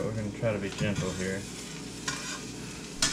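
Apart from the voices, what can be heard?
egg frying in fish roe juice in a cast iron skillet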